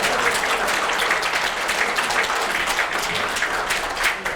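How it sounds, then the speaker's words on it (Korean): Audience applause at a forum lecture on traditional Korean folk music, a full, even roar of many hands clapping steadily and loudly throughout. "박수를 확실히 한번 쳐볼까요?"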